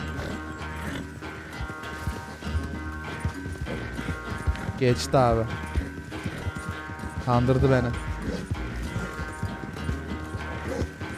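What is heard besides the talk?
horse galloping in Red Dead Redemption 2 video game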